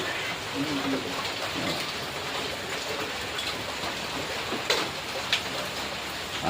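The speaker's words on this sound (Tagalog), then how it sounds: "Tibuok Davao yata ang ulan karon." Steady rain pours down in a dense, even hiss across Davao on a cold morning, with a couple of sharp taps near the end.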